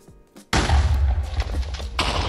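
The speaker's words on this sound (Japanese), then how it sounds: "的に当たったらこのように TNT が着火して" Minecraft TNT ignites and explodes: a short quiet lead-in, then a sudden loud booming blast that rumbles on, followed by a second burst of crackling debris near the end.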